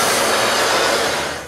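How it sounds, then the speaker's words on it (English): A vacuum cleaner draws dust off an old wooden nine-drawer dresser, a loud, steady whooshing roar close up that tails off slightly at the end. "I start by vacuuming all the dust."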